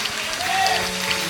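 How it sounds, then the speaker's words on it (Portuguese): A church congregation gives a short burst of strong applause at a family seminar; the clapping is dense, steady and fills the room. "Vamos dar um forte aplauso ao nome do Senhor Jesus."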